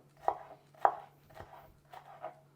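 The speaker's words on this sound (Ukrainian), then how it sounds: "Перець будемо нарізати ось такою соломкою" Knife chopping a bell pepper into thin strips on a cutting board, five crisp close taps at a slow uneven pace over a faint low hum.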